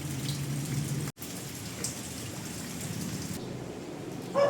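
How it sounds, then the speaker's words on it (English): Rain begins to fall hard in a rural Philippine province, a steady, fairly loud hiss of drops on surfaces that is briefly cut off near the start and ends with a short brighter sound. "Looking like it's gonna rain hard."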